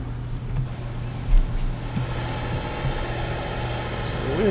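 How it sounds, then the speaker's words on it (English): A green Scania 6x4 truck with a V8 engine cruises along in Euro Truck Simulator 2, giving a steady low engine drone with faint road rumble under soft background sounds, and one brief bump partway through. "We're driving the green 6x4 Scania with a V8 engine."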